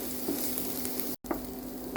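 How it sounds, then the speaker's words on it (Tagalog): Grated ginger frying in hot oil in a pan, a steady close sizzle with faint stirring scrapes, briefly cut off near the middle and then resuming, with no voices. "now let's fry our grated ginger. Fry until the aroma releases."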